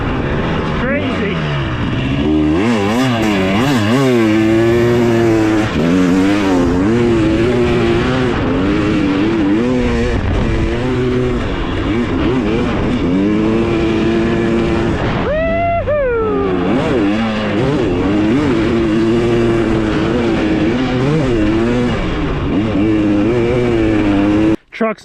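A 2023 Husqvarna TX300 two-stroke dirt bike rips along on a break-in ride, its loud close engine wailing up and down through repeated throttle rises and drops for about twenty-five seconds.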